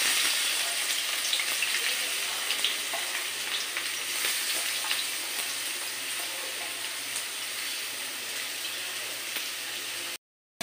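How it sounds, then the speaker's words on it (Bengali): Onion frying in ghee, heard as a steady, fairly loud crackling sizzle that carries on evenly close up. It stops abruptly just before the end. "আমি খুব ভালোভাবে ভেজে নেবো"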